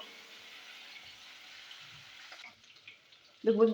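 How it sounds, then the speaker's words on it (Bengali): Fish frying in hot mustard oil gives a steady, faint broadband sizzle that fades after a couple of seconds, ending in a brief louder low clatter. "মাছগুলো আমি ভেজে নিই"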